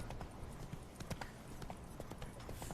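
Roach, Geralt's horse in The Witcher 3, runs at a fast gallop, dense rapid hoofbeats pounding continuously and close throughout.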